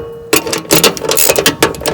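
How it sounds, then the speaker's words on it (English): A wrench cranks down a deck bolt on an MTD Yard Machines 638RL riding mower, giving close, loud rapid ratcheting clicks in several quick bursts after a brief quiet start. "Crank this one down until"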